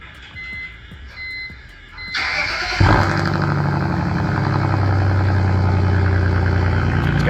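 BMW 325 drift car engine, a 3 Series, cranking and catching after a few quiet seconds, then settling into a loud, steady, deep rumbling idle close to the microphone.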